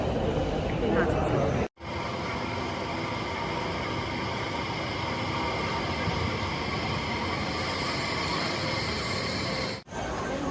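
A Delhi Metro Pink Line train roars with a loud, steady rumble and hiss of wheels on track, broken by two abrupt brief drops in sound.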